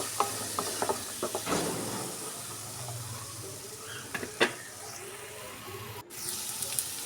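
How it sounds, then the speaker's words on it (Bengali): Potatoes frying with half a spoon each of chili powder and turmeric powder give a faint, steady sizzle, broken by a few close spoon clinks and scrapes against the pan. "এরপর এখান দিয়ে দিলাম হাফ চামচ লঙ্কা গুঁড়ো আর হাফ চামচ হলুদ গুঁড়ো আর স্বাদ মতো নুন দিয়ে আমি আলুটাকে ভেজে নেব"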